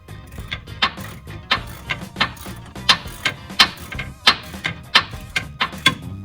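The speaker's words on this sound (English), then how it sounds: "It pays to have your ratchet when you need it." A hand ratchet wrench turns a bolt on a Dodge Ram during a steering repair, giving a close, loud series of sharp clicking bursts in an uneven rhythm of quick swings.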